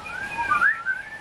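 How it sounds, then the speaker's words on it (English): People whistling a bright, wavering melodic line, fairly close and alone, with a few pitch slides over a soft background hiss. "A lot of whistling. You will always hear whistling."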